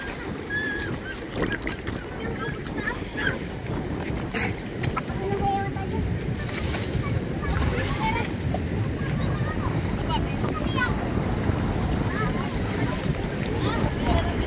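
Strong northeast monsoon wind (amihan) roars over choppy sea waves around a small boat, a dense continuous rush with water slapping the hull. Voices talk over it throughout.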